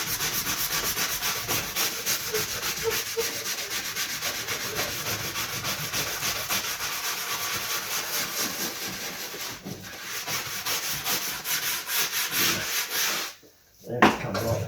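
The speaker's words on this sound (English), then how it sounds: "Let's see if I can hand scrub it." A hand scrubbing a stained seat during a first deep clean in over 40 years, giving a continuous, fast rhythmic rubbing at close range that dips briefly near the end, with no voices.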